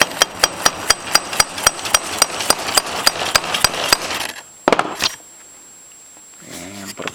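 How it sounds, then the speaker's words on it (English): A metal stud is hammered into leather with a rapid, regular series of sharp, close taps, followed by a few separate louder strikes and then quiet. "and then you just hammer it down,"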